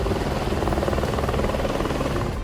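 A helicopter flies during a flood rescue operation, its rotor a steady, loud, continuous thrum with no voices over it.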